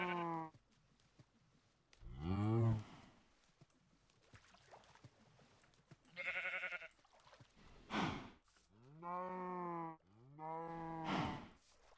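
A Minecraft cow moos repeatedly in a survival multiplayer world, with several loud, drawn-out calls spaced through the stretch and quiet gaps between them, heard alone without talk.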